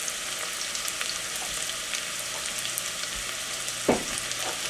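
Garlic cloves sizzling in a hot pan with water and vinegar just added for an Egyptian koshary sauce, a steady, fairly quiet frying hiss with one brief stir or clink near the end and no talk.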